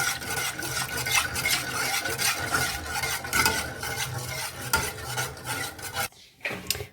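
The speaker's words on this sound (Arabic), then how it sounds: "تحركوا فيها مزيان" A spoon stirs a milk mixture in a pot, scraping and swishing steadily up close in quick repeated strokes, pausing briefly near the end before resuming; no voices.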